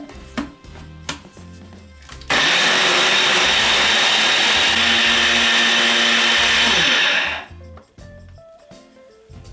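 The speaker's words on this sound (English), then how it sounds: "Now we'll grind this into a puree." A blender grinds scotch bonnet peppers with canola oil, salt and brown sugar into a hot sauce puree, a loud steady whir running about five seconds without a break, with quieter kitchen clatter before and after.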